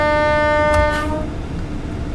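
A locomotive horn sounds in Train Sim World 4 on the East Coast Main Line, one loud, sustained harmonic blast that cuts off after about a second, leaving rumbling rail noise behind.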